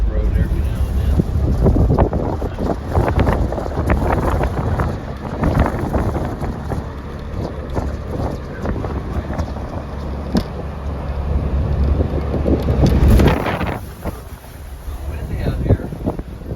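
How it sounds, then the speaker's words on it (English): Strong wind buffeting a rider on a motorcycle along a back road, a loud continuous roar and rumble of wind noise with gusty surges, close to the microphone, with a voice talking over it. "Windy out here."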